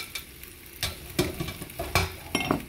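Chicken with onions simmers in beer over low heat, giving a soft sizzle and bubbling in a pan, broken by several sharp clinks and scrapes of a utensil stirring against the cookware.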